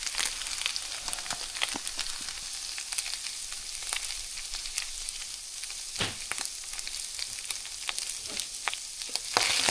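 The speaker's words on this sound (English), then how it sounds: "go ahead and just put that in here, stir it together" Beef and refried beans stirred together in a hot skillet give a steady, close sizzle and crackle, with scattered scraping clicks from the spoon and no voices.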